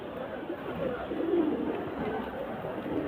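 Pigeons cooing in a loft in Khidirpur, a soft continuous murmur of low calls close by, with faint background chatter.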